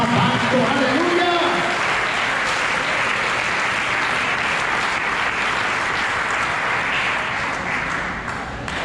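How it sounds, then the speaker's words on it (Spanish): A church congregation breaks into sustained applause, a dense steady roar of clapping that fills the room and slowly fades near the end, with a brief voice at the very start. "Den un aplauso al Señor que nos ama tanto"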